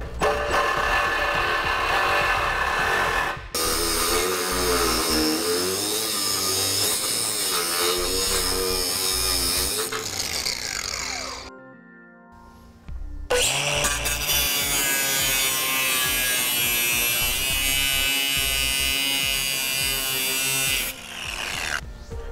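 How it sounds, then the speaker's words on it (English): A Sawzall and a circular cutoff wheel grinder cut through the metal of a 2014 Ford Fiesta, a loud, close, continuous high whine and rasp with one brief pause midway, no talking. "we're going to go ahead and use a Sawzall and a circular cutoff wheel or"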